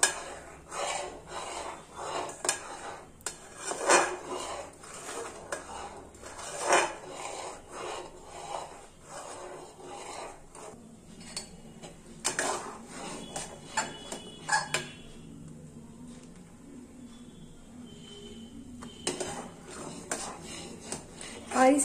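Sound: stirring thick potato papad mixture cooking in a pan

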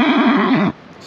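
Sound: horse neighing on beach

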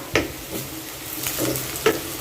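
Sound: onion frying in a pan

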